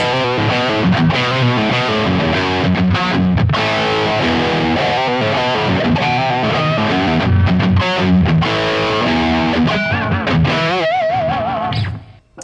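Les Paul electric guitar played through a Donner Morpher distortion pedal, a loud, continuous classic-rock riff with thick overdriven chords and sustained lead notes, fading out at the end.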